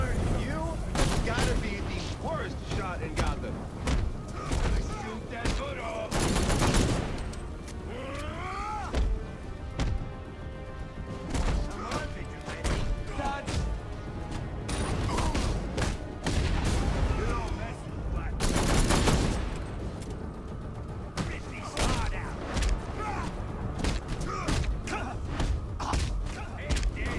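Repeated gunfire in Batman: Arkham Knight during a Red Hood fight against Black Mask, with sharp shots and bursts scattered throughout and two heavy blasts, all mixed under frequent voices talking.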